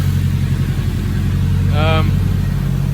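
A turbocharged car engine idling smoothly and close by, a steady low throb that holds even throughout, with a voice briefly speaking over it.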